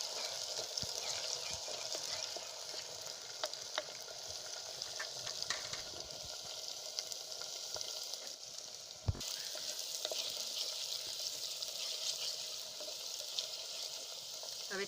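Chili paste and green garlic sauté on a clay stove, with a soft, continuous frying sizzle broken by scattered stirring clicks and scrapes, heard fairly close but quiet.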